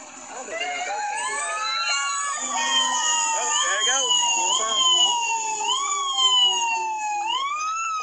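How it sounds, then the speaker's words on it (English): A fire truck siren wails at a parade, loud and sustained, its rising and falling sweeps repeating over several seconds. "Fire truck, Z."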